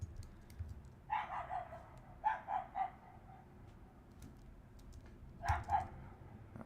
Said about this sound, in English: That's just some local doggies.